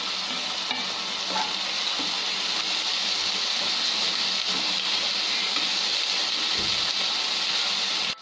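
Curry leaves and green chilies hit hot oil in a pan with onion, giving a steady bright sizzle with occasional stirring scrapes, close and continuous with no talk.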